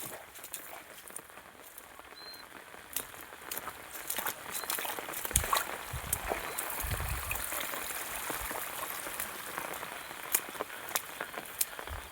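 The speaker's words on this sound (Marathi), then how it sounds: "भयानक पाऊस झाला" Steady rain pattering on surfaces, a dense wash of drops with a few heavier splats and thuds, fairly close and continuous throughout.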